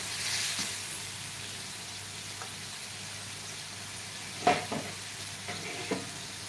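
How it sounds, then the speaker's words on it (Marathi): Masala for a boiled egg curry roasts in a pan with a soft, steady sizzle and a few scattered stirring scrapes, close but fairly quiet. "दोन मिनटासाठी चांगला हा मसाला भाजून घ्यायचा आहे"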